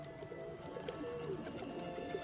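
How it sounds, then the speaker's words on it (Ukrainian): Pigeons coo softly and repeatedly in a New York outdoor setting, low throaty burbling calls over a steady background hum with no talking. "Вас обсіли голуби."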